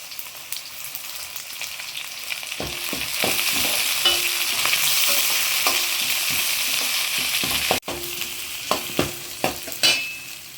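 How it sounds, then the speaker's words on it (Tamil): Onions with a few curry leaves sauté in oil toward golden for chicken chintamani, a steady frying sizzle with scattered scraping and tapping of a spatula on the pan, getting denser in the later seconds, no speech. "வெங்காயம் வந்து நல்லா கோல்டன் கலராக வரவெல்லாம் வதக்கி எடுத்துக்கோங்க"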